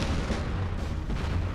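A detonator-triggered explosion in the video game Conflict: Desert Storm makes a loud, sustained, booming roar that fills the whole moment, with no voices over it.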